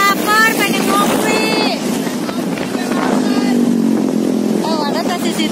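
A motorcycle ride on a Sundanese road, with wind and engine noise rushing steadily throughout while people's voices talk and call out over it.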